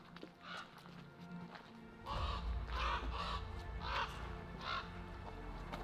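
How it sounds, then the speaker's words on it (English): Several crows caw in a series of harsh calls at a roadside in Alaska, repeated in bursts roughly every second over a steady low rumble of traffic or wind. "What's up with those birds?"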